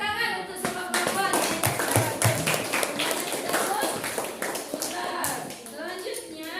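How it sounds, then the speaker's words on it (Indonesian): Classroom of pupils clapping their hands together, a bright rapid burst of close claps that continues for several seconds while children's voices chatter over it. "Tepuk tangan untuk semua perempuan."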